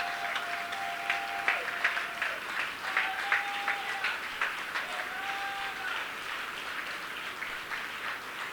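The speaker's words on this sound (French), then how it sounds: "Quelqu'un peut acclamer le Seigneur pour sa parole?" A church congregation claps after a French-language sermon, steady scattered applause carrying on for several seconds at moderate distance, with faint sustained tones running beneath it.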